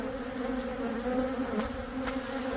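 Honey bees in a hive affected by chronic bee paralysis buzz in a steady, close drone that never pauses.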